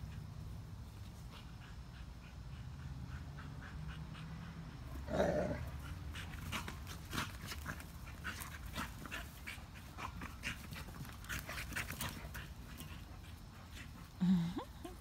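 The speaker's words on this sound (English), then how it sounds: "don't you growl at me, boy" A Dogo Argentino and a pit bull type dog at play, with close growls, panting and small whimpers and yips, plus a couple of louder bumps and rustles of movement.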